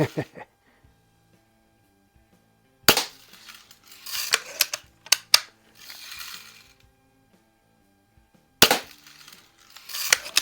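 A first-year production Daisy model 99 BB target rifle fires shots at a target, with a few sharp, snappy cracks and clicks spaced apart and a person talking in between.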